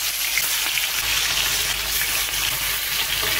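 Food fries in a pan on a home stove with a constant, dense, hissing sizzle that stays loud and close the whole time, and no voices are heard.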